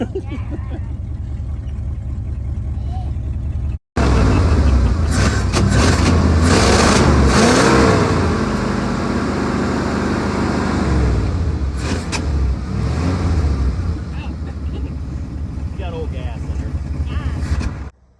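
A car engine revved hard by kids, loud roaring surges rising and falling close up after a brief pause, with voices talking and calling out over the engine.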